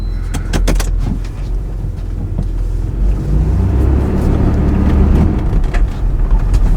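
A 3rd generation Toyota 4Runner, just fitted with a new ECU and being shifted into four-wheel drive, rolls slowly along a driveway with a steady low engine rumble, joined by a few sharp clicks and knocks near the start.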